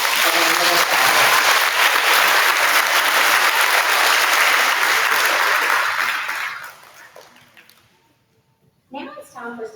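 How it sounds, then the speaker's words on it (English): Loud sustained applause from a school audience at a second-grade awards day, fading out after several seconds before a voice begins speaking near the end. "Let's give Miss Tucker's class a round of applause."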